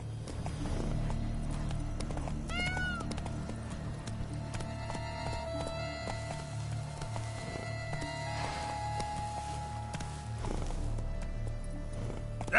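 Roach the horse gallops in The Witcher 3, a steady run of hoofbeats that carries on without a break under a dense layer of game ambience and music.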